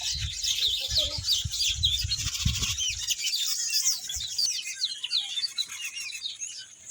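Several birds calling near nests holding chicks, a dense run of high chirps and tweets throughout, with low rustling at the start and no talking.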